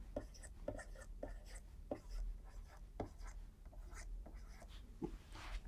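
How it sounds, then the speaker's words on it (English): A diagram is sketched by hand during a lecture on reservoir fluids, with soft, repeated scratchy pen strokes in short bursts, close and quiet, with no clear talk. "So let's draw this figure first."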